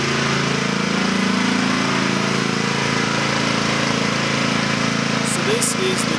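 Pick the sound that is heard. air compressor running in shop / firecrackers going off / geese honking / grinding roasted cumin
air compressor running in shop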